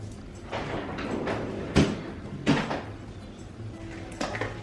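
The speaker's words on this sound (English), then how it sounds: "So I'm gonna put them in the freezer." A home freezer door is pulled open and pushed shut, giving a couple of soft thuds and rattling knocks with a sliding, rustling sound between them, close by in a quiet kitchen.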